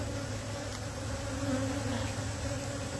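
Honey bees hum steadily at a hive entrance, a dense continuous drone of many insects close by, fairly even in level throughout.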